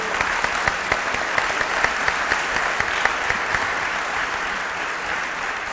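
Sustained audience applause at a book launch event at a university, dense steady clapping from a crowd filling the room, moderately loud and continuous throughout with no talk over it.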